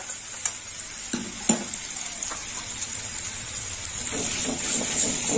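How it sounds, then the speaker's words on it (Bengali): Mourala fish coated in mustard sizzles in a hot frying pan with a steady hiss, punctuated by a few sharp clacks and scrapes of stirring that grow busier toward the end. "এই যে সর্ষে শুদ্ধ মৌরলা মাছ দিয়ে দিলাম।"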